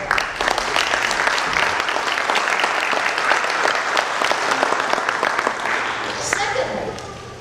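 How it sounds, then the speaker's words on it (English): Steady audience applause fills the room at a community meeting about high-speed internet rollout in Sussex County, dense and sustained throughout before tapering slightly in the final second. "we should give them a round of applause"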